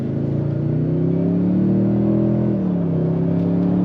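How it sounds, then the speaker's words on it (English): A 2023 Toyota Tundra Platinum hybrid pickup with a V6 accelerating, a steady mid-pitched engine drone rising slightly in pitch then settling, heard from inside the cab with no talk. "Wow, that's strong acceleration to this girl."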